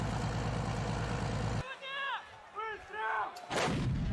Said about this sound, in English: They wanted to come out to cannon fire